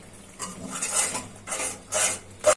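A utensil scrapes and clatters against a pan while a spice paste is stirred and sautéed for a fish curry, with four or five quick strokes and faint sizzling between them.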